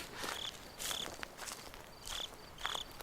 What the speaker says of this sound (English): If the crickets get louder, is that bad?